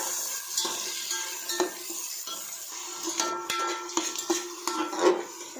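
Onions frying in oil with masala, a soft continuous sizzle broken by frequent clinks and scrapes of a spoon against the pan, close and without talk.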